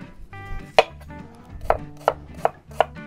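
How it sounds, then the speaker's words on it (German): Knife chopping through onions into strips on a board, five crisp, evenly spaced cuts close up with a low background hum. "Die Zwiebeln schneide ich in Streifen."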